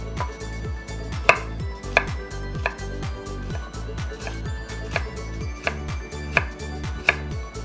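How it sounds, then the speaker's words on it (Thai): Rapid, evenly spaced knife chops thud on a cutting board, a steady close rhythm of slicing through a firm carrot. "เสร็จแล้วเราจะหั่นให้เป็นแผ่นบางๆนะครับ"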